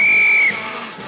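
A loud, steady whistle blast holds one shrill pitch for about half a second, then cuts off, leaving a faint murmur of a studio audience behind it.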